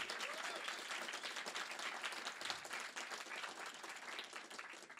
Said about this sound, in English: So please, could we have another round of applause for all of our speakers?